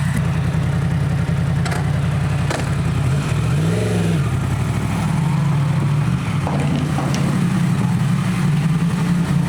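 A 125cc motorcycle engine warming up, idling steadily with a couple of rising and falling revs in the middle, loud and close, with no talking.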